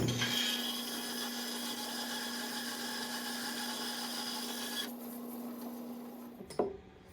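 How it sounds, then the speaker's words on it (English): A bandsaw cutting through quarter-inch brass stock, a steady whining hum with a sustained tone that runs evenly, then drops off as the cut finishes, followed by a brief clunk near the end. "I think I'm gonna opt to cut that in the bandsaw"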